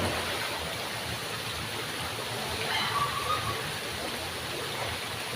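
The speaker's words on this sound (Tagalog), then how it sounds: "yung tatapon ng tubig dun" Steady rushing and splashing water dumped from above at a resort, pouring down continuously at moderate distance, with faint background voices.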